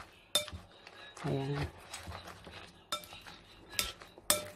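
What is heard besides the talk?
mixing cabbage and chilli omelette mixture with utensil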